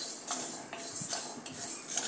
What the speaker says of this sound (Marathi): आता हे आपण रोस्ट करून घेऊया।